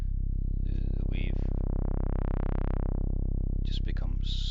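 A buzzy tone from a Voltage Modular synth runs through the Cherry Audio stock filter. The cutoff sweeps so the bright, harsh upper edge rises and then falls away toward a smoother, duller hum, and someone talks at the start and end.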